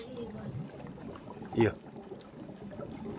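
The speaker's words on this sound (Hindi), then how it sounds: "इधर मित्रों पानी आ गया है।" Village water supply arriving in an Uttarakhand hill village, with a steady rushing flow of water and a brief louder splash partway through, while a voice speaks.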